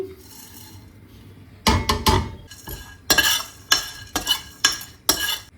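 Cumin seeds added to ragi roasting in a hot pan, with loud bursts of scraping and rattling as the grains are stirred, coming in about six separate sweeps with short pauses between.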